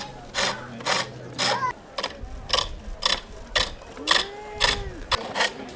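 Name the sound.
foot-treadled pole lathe turning wood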